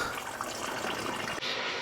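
Coolant drains from a radiator hose on a 2012 Jeep Wrangler, a steady close splashing pour of liquid that runs continuously and then cuts off abruptly near the end.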